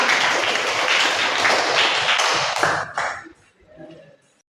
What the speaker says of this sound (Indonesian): Mari kita tepuk tangan untuk mereka